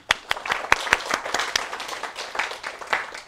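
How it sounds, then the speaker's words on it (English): A small lecture-hall audience at a university database class gives a short round of applause, sparse individual claps at first, then a brief, moderate patter that stays fairly close. "Give me a round of applause."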